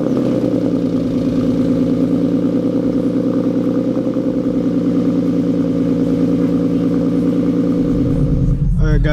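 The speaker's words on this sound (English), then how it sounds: "give this car a cold start, or give my car a cold start" A car engine runs steadily at a loud, close idle after a cold start, with a rough, even rumble that continues throughout and a brief clatter at the very end.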